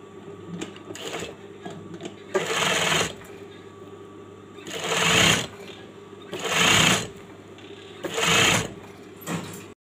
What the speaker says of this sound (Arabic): نخيطو ونجي عاود في الجنب ديالو بهذا الشكل هذا هكذا نخيط